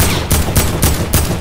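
Loud gunfire in a shooter video game, dense bursts of rapid shots pulsing in quick repeated volleys with no voices over it.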